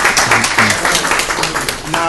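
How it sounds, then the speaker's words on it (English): A room welcoming a new class breaks into applause, with a brief patter of clapping mixed under loud cheering and voices. "let's have a round of applause for our new class"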